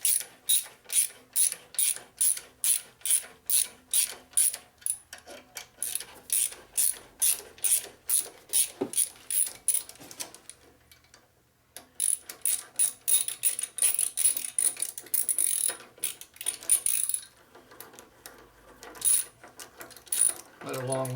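A ratchet clicks in rapid, repeated bursts while backing out a long bolt on a Harley Evo chopper, a rigid bobber custom under repair; the close, crisp strokes pause briefly midway, then resume.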